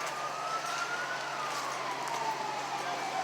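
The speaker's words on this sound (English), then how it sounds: "So they're taking one person out in the ambulance. The ambulance is now leaving." An ambulance siren wails steadily as the vehicle pulls away from an accident scene that reeks of gasoline. Its tone glides slowly downward against a constant outdoor roar.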